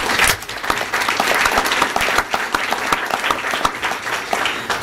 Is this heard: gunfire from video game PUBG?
no